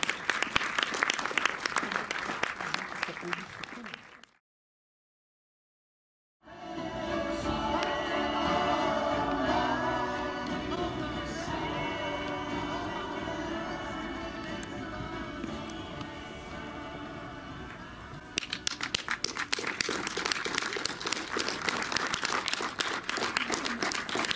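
Sustained audience applause in a cinema fills most of the stretch, broken by a brief silent gap, then resumes with crisp, dense clapping toward the end.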